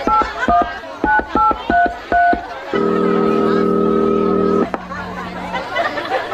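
Several quick phone keypad tones beep in succession, followed by a long steady ringback tone; faint background chatter underneath.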